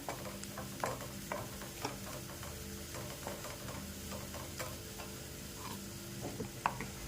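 Onion, garlic, masala and turmeric stirred in a pan for a Marathi hummingbird-flower (hadga) vegetable dish, giving soft scrapes and clicks over a low steady sizzle with no talking.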